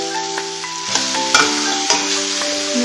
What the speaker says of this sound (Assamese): গাজৰ আৰু কেপচিকামখিনি ভালদৰে অলপ সময় ভাজি ল'লোঁ